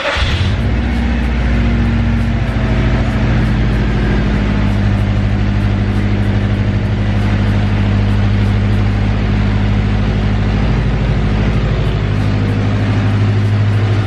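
A Subaru Legacy GT with a blown engine cranks and catches, then settles into a loud, steady, slightly rough idle that runs on evenly and close by, with no talking.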